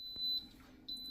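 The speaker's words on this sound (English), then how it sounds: "As you can hear, it's beeping." A kitchen appliance timer gives a steady high-pitched electronic beep that stops briefly and then resumes, faint against quiet room noise.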